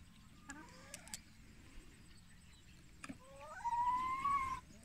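Backyard chickens make soft, distant clucks and a rising, drawn-out squawk near the end, faint over quiet outdoor background noise with a few small clicks.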